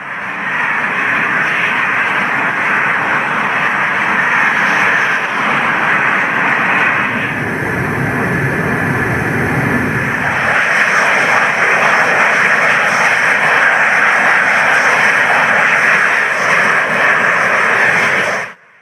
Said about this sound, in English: For this mission, the squadron will be formed by 2 Spanish Eurofighters and a NEURON RPS.